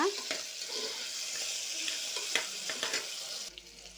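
Ginger garlic paste frying and being stirred in a hot pan for coconut pulao, giving a steady close sizzle broken by scraping stir strokes, with no talk.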